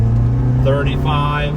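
A 1987 Saab 900 Turbo pulls through its gears on the road, its engine a loud, steady drone inside the cabin while someone speaks over it.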